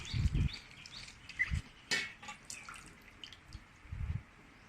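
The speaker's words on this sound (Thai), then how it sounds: "ขนมจีนนี่ ล้างน้ำก่อนนะคะ เพื่อความสะอาด" Khanom jeen rice noodles are rinsed in water with soft splashes, drips and sloshing, close and intermittent, with a few low thuds between.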